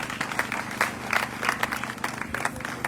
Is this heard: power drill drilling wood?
no